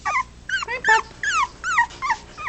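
A four-week-old puppy whimpers in a run of high, wavering whines, about eight short cries spaced steadily, close and clear with no talking.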